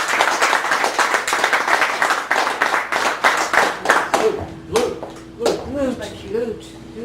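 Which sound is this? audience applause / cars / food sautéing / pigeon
audience applause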